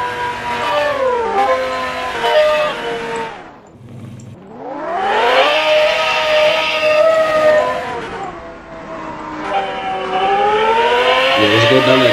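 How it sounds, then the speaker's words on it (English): A twin turbo Lamborghini Gallardo engine in the Roblox game Driving Empire revs hard through rising gears, its whine climbing in pitch, dropping at each shift and climbing again, loud and close. "And it sounds so good."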